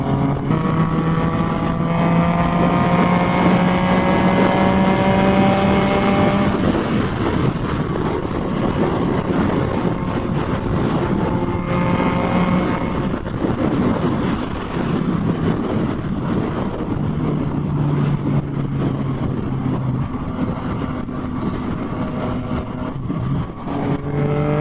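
A Yamaha FZ-09 naked motorcycle with a quick shifter is ridden at speed. The engine note is loud and close, rising through the gears in repeated sweeping climbs, with heavy wind rush throughout.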